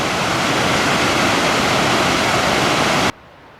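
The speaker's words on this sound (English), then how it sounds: "And we are rewarded with this epic cascade / waterfall." A waterfall cascade near Ice Lake in Oregon's Eagle Cap Wilderness roars close and loud as a steady, dense rush of water, then cuts off abruptly just before the end.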